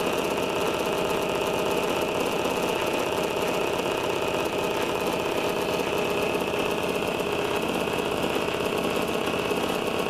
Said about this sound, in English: this pancake motor.